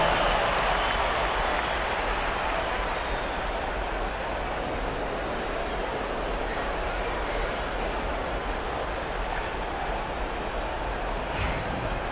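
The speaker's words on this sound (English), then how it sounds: "Give yourself a round of applause." Crowd applause inside an NBA 2K basketball arena during a Mavericks versus Grizzlies play-in game, a broad wash of clapping and cheering that holds steady for the whole stretch at moderate level.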